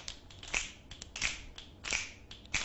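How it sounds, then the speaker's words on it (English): Sharp finger snaps repeated several times in an irregular rhythm, fairly quiet and close, each a short bright crack with faint rustling in between, no voices. "Now, snap your fingers."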